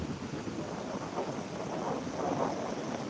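Steady rain hisses throughout with a low rumble at an overflowing weir of a small village lake, a continuous moderate wash of sound with no voices.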